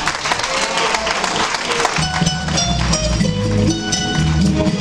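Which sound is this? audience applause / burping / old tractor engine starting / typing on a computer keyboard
audience applause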